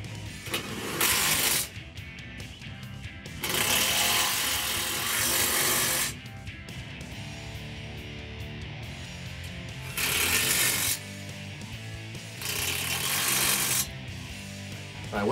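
Rough Country bull bar brackets on a 2007-2021 Toyota Tundra being tightened with a 17 mm socket under the tow bar: several loud bursts of a power tool whirring and rattling, separated by quieter pauses, with no talking.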